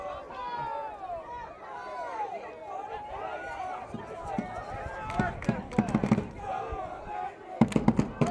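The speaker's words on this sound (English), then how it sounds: "Cole Robertson hearing it from the McDonogh student body down on the fence line" A high-school student section jeers and shouts from the fence line at a St Marys vs McDonogh basketball game, a steady roar of overlapping voices with sharper bursts and claps building toward the end.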